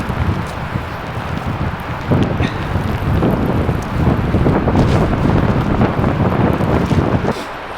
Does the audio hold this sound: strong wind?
yes